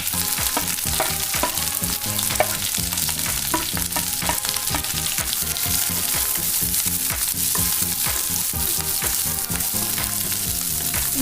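Chilies, capsicum and onions stir-frying hard over high heat, a loud dense sizzle with rapid rhythmic scraping and tossing throughout, no voices present.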